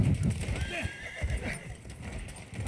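Horse hooves clatter and a horse whinnies in the Battlefield 1 video game as a rider is cut down in close combat, all under excited talking.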